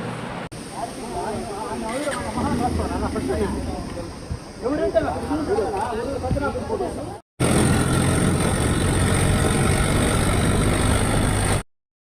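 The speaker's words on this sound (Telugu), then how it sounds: "మేము ట్రాక్టర్లో బయలుదేరాము" A tractor engine runs steadily while carrying people along the road toward the sea at Tupilipalem for a Ganesh idol immersion. It first sits under lively talk, then drones alone as a loud, continuous rumble.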